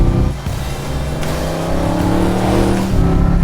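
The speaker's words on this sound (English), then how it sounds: "Big American V8 in the back, 351 Cleveland." A 1971 De Tomaso Pantera's mid-mounted, bored-out 351 Cleveland V8 of about 500 horsepower pulls hard under acceleration, a loud, deep, continuous engine roar heard from inside the car.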